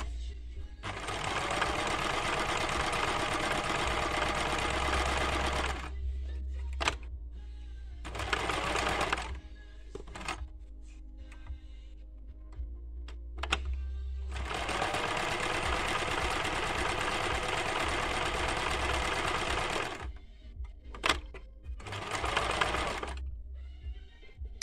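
A Yamata sewing machine stitches a buttonhole in long, fast, steady runs of rattling needle strokes, stopping for brief pauses between passes; its low motor hum sits underneath.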